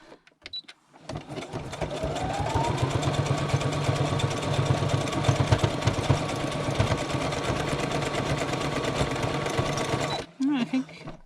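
A sewing machine stitches through a handmade journal, its rapid needle chatter running loud and steady for about nine seconds before stopping, with a few words of speech near the end.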